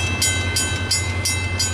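A CN freight train pushed by ELS EMD locomotives 502 and 503 rolls past, with steady low engine drone, a high whine and rhythmic clickety-clack of wheels over rail joints, close and loud.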